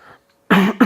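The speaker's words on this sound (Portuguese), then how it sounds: "Perdão pela tosse." A single sharp adult cough, close and loud, preceded by near silence and followed by a brief second catch of breath.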